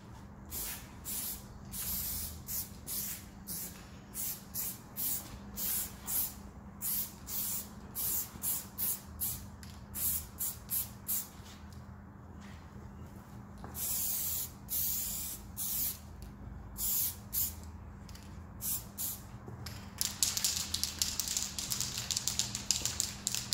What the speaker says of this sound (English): I'm just going to start by giving a dust coat, making sure that I do the edges.